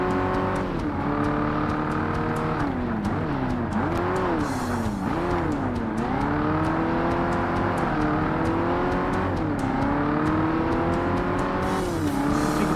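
A loud race car engine revs and shifts steadily in Forza Motorsport on the original Xbox, the pitch rising and dipping through gear changes for the whole stretch, close and continuous with no talking.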